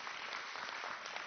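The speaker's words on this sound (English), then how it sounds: "Yeah, a big round of applause." An audience applauding at a board of education meeting, a dense, even patter of many hands clapping, fairly faint and distant, with no talking.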